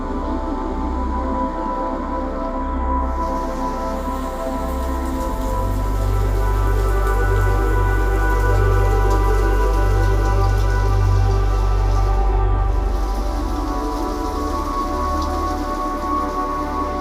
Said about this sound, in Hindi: अब बहुत तेज़ बारिश आ गई थी